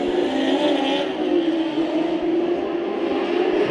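Race cars at Bakersfield Speedway roar into turn one on a green-flag start, a loud continuous engine drone with steady revving throughout and no pauses.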